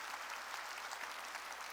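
A church congregation breaks into sustained applause during a worship service, a dense even patter of many hands heard from a little distance, filling the whole moment without a voice over it.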